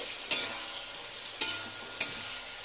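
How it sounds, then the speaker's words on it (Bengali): Vegetables with a pinch of turmeric fry in a pan under a soft, steady sizzle, punctuated by three sharp scraping stir strokes spaced apart, heard close with no voices. "তারপর এটা ভালো করে কষিয়ে নিয়ে আরও মশলাতে দেব"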